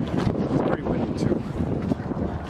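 Wind gusts roar steadily across the microphone at the Statue of Liberty, loud and continuous, with the broadband rush of wind noise filling the whole stretch.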